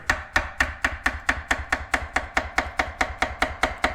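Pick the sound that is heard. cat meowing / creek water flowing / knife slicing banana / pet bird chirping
knife slicing banana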